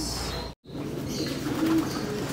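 Pigeons cooing in a breeding colony inside an aviary, with a low soft coo rising amid steady background hum and faint chirps, broken by a brief silent gap.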